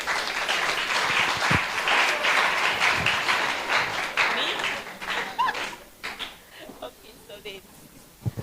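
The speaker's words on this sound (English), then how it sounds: "Give yourselves a round of applause." Applause at a school spelling competition, a dense patter of clapping that fades out over several seconds, with scattered voices and a few thuds toward the end.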